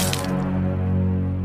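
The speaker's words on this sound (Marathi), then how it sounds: "आता दारू पिऊन घेतो" In a cartoon, liquor is poured for drinking: a brief, close liquid drip-and-splash sits over a sustained tonal background, with no one talking.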